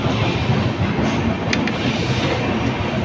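The Kamrup Express runs along the rails near Kamakhya Junction, a steady dense rumble and rattle of carriages filling the whole span with no pauses.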